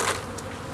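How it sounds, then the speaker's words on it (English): A short, dense burst of bees buzzing close by during a bee removal, loud at first and then a little softer. "they're just gonna Go crazy. And buzz right in the air as soon as I do it"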